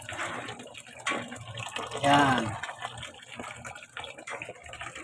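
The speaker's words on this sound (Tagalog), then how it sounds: "Bibigyan niya namin tubig kasi may tagas. Ayan, tumutulo ano." Water leaking and dripping from a damaged household water line in Tondo, heard as a steady wet trickle and splash close by, with someone talking over it.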